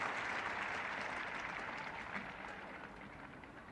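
Applause from a cricket crowd at an Ashes Test match, a steady wash of clapping from a large distant stadium audience that holds evenly and then fades slightly toward the end.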